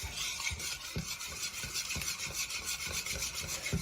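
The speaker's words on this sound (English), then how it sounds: "I want you to whisk your corn oil with your 5 eggs" Corn oil being whisked with five eggs in a bowl, a rapid rhythmic scraping beat of about two strokes per second, close and steady with no voices.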